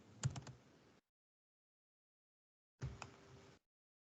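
Two short bursts of rapid keystrokes on a computer keyboard while entering a student name, each lasting under a second with silence between, close and clear with no voices.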